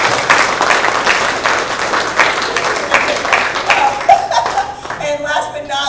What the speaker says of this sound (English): So applause for our students.